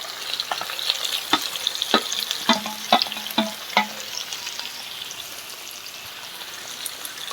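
Sliced shallots and onions fry in a pan for a beef liver curry, a steady close sizzle with a run of sharp stirring scrapes in the first half before settling into even crackling frying.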